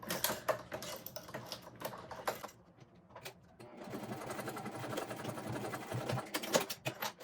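A sewing machine stitches across a backpack zipper in rapid, loud mechanical bursts, pausing briefly midway before running steadily again at close range.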